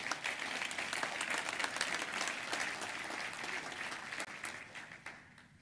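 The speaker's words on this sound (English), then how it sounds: "Let's give him a big round of applause." An audience at a military awards breakfast applauds, a dense, steady wash of many hands clapping that fades slightly toward the end, with no voices over it.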